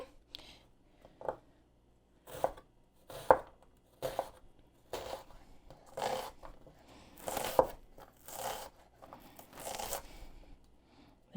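A knife chopping onion halves into small pieces on a board, a dozen or so separate crisp cuts at uneven intervals, close and fairly quiet, with no talk.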